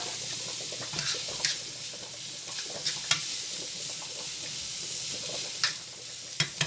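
Food frying in a pan for lasagna, a steady close sizzle broken by occasional clinks and scrapes of stirring, with no talk.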